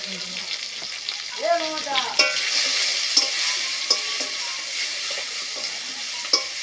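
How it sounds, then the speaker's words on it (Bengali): Prawns fry in a pan with salt and turmeric, giving a continuous bright sizzle. Scattered taps and pops come from the pan, and a brief voice is heard near the start. "চিংড়িটা একটু ভালো করে ভেজে নিচ্ছি।"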